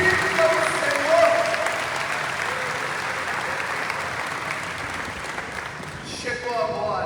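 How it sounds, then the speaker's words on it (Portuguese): A church congregation claps loudly during a sermon, dense sustained applause that slowly fades, with a preacher's voice over it. "Aplaude esse Deus para valer."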